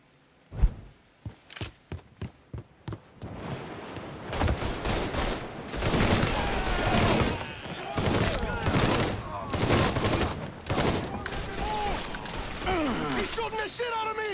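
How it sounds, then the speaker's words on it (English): Several sharp single gunshots ring out in the Mafia III video game, then build into heavy sustained gunfire with dense bursts and someone shouting excitedly over the shooting. "He's shooting the shit out of me!"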